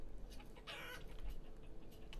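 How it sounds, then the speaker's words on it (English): Chickens cluck and squawk in a farming video game, a short burst of fowl calls over a steady background hum. "Why are the chickens going into my hunting cabin? That's a really bad place to be for a chicken"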